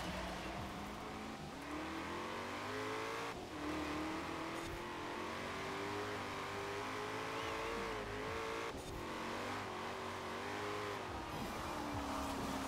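A Ford Falcon FE in Forza Horizon 4 revs hard and fluctuates with wheel spin, pitch rising and falling repeatedly, loud and continuous with tire noise.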